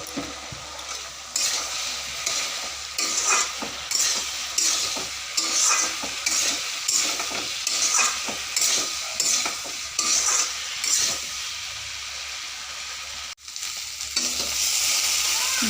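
Boiled potato and eggplant frying in spiced oil in a pan for a Bengali vegetarian curry, with loud sizzling under repeated rhythmic scraping strokes of a spatula, then a brief pause before the frying continues steadily.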